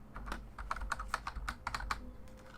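Fingers type a password on a computer keyboard, quick uneven clicky keystrokes in short bursts, close and fairly quiet, with no speech.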